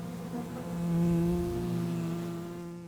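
A swarm of wild honey bees clustered on a branch at a forest edge gives a dense, steady buzz of many wings, swelling to a peak in the middle before easing slightly.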